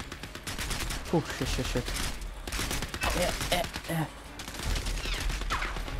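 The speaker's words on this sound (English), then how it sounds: "that's a turret" An automated turret in the Crysis 3 shooter fires repeated bursts of gunfire in quick, uneven volleys, loud and close, while someone talks and exclaims over the shots.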